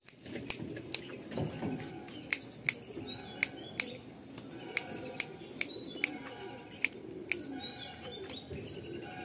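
Andhra breed pigeons let out from a loft: repeated sharp clapping wing beats and flapping bursts, with faint chirps and coos over quiet outdoor background.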